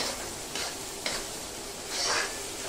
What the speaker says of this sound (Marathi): कांदा मस्तपैकी परतून घेऊया। त्याच्याबरोबरच हे जे तीळ आहेत हे पण आपण याच्यामध्ये परतून घेऊया।